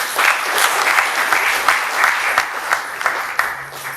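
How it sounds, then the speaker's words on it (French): A lecture audience applauds again, many hands clapping in a dense, continuous wash that gradually thins out near the end. "Je voudrais demander à l'assistance de vous applaudir encore une fois, s'il vous plaît."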